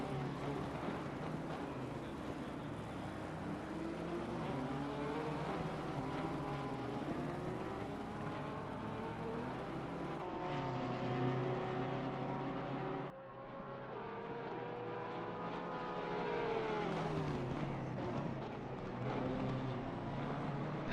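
Porsche race cars circling Laguna Seca during an endurance event, engines rising and falling in pitch as they pass, at a moderate distance and fairly quiet, with a short lull partway through.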